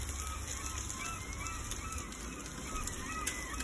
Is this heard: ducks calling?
yes